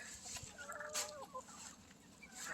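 Guinea fowl calling on a farm in winter, a faint, distant series of harsh chattering cries over a quiet outdoor background.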